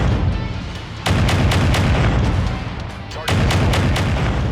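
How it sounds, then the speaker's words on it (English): A mech in MechWarrior 5 Mercenaries fires long-range weapons in heavy, booming volleys over a constant loud battle rumble, with sharp cracks clustered in two bursts. "See, I can shoot at long range now."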